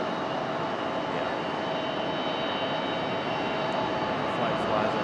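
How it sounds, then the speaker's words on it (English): Jet airliner, an Airbus A321 near Raleigh-Durham airport, roars overhead at night as a steady broadband rumble that holds level throughout, with a faint voice underneath. "Looks like this is an A321."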